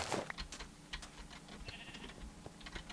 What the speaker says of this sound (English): Ooh, they got sheep, Dave.